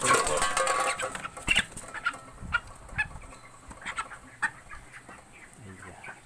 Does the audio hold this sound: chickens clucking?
yes